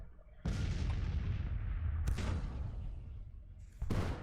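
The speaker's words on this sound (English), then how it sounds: "being battered by our cannons, which is great" Cannon fire in the Civil War strategy game Grand Tactician: three heavy booms, each with a long rumbling decay, over continuous low battlefield rumble.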